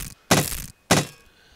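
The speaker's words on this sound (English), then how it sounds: "So now I have enough wood to go ahead and bang this floor closed" Two heavy wooden thunks in Rust as a wooden floor is hammered shut, each a loud, close impact with a short rumbling decay, separated by about half a second of quiet.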